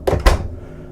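A thick wardrobe door aboard a 2017 Nordhavn 96 explorer superyacht swings shut with two quick, close, solid thuds, then a brief fading resonance and room quiet.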